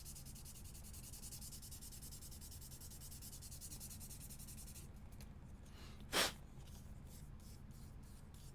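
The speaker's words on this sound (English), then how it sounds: "we will progressively sand this down smooth." Steady, even rubbing of sandpaper over a surface, a continuous close scratchy hiss that thins out midway, with one sharp brief scrape near the end.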